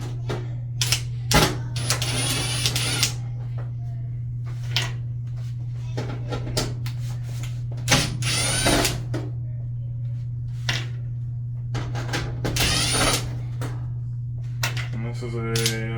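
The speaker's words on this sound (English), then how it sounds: "the next step here is just to remove all of the screws in the back" Screws being removed from the back panel of a GE electric dryer, with a constant low electric hum beneath intermittent metallic clicks, rattles and scrapes of a tool and loose screws.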